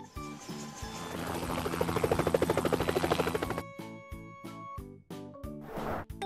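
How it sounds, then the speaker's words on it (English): A helicopter's rhythmic rotor chopping builds and fades over a few seconds, set against a bouncy musical backdrop. "Helicopter."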